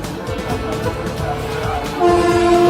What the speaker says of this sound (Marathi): तर गाईज आपली ट्रेन आली आहे